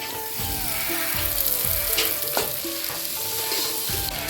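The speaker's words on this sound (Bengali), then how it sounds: "পেঁয়াজটা ভাজা হয়ে গেছে এখন ভেঙে রাখা আলুটা দিয়ে দেবো" Mashed boiled potatoes go into a pan of fried onions and sizzle steadily, with a spoon scraping and stirring in short repeated strokes, close and fairly quiet, no talk.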